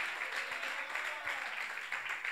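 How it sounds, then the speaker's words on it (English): A church congregation claps hands during an online leaders' prayer meeting, a steady moderate patter of many hands throughout with no voices. "Let's clap hands for the faithful people."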